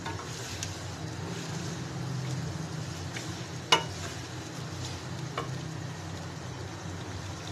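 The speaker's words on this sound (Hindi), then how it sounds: "और इसको 1-2 मिनट के लिए भूनेंगे ताकि हमारे चिकन का कलर चेंज हो जाए।" Chicken frying in a pan for a couple of minutes, a continuous steady sizzle with an occasional sharp clink of a utensil against the pan.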